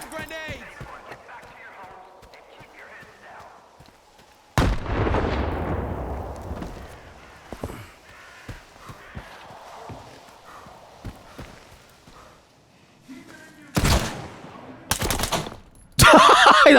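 Gunfire in the video game S.T.A.L.K.E.R. 2 comes as several loud, abrupt bursts of shots among quieter footsteps and rustling, while a person talks throughout.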